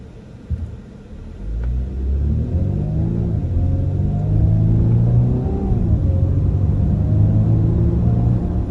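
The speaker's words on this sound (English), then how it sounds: "Now let's see how well it accelerates as we come to complete stop." A 2024 Volkswagen Atlas four-cylinder family SUV pulls away from a standstill, its engine rumble building steadily and climbing in pitch as it gathers speed, heard from inside the cabin and holding loud and even to the end.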